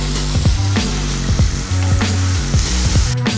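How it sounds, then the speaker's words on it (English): Tomato pieces fry in a pan while pepper rasam is being cooked, giving a steady sizzle underneath louder background music with plucked bass notes. "After 2 minutes, add 2 small sized tomato pieces and cook them completely."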